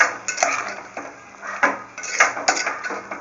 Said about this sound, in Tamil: இப்போ இந்த பீர்க்கங்காயை அதில் போட்டுட்டு ஒரு 10 நிமிஷம் நல்லா வதக்குறீங்க